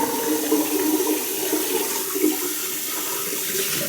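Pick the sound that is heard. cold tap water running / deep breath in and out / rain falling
cold tap water running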